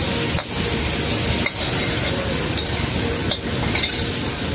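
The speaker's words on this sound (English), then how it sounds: "Red and yellow pepper. And just see how it slides around in the pan there." Sliced red and yellow peppers sautéing in a hot pan, a dense, loud, steady sizzle broken by a few brief scraping shifts as the pan contents are moved.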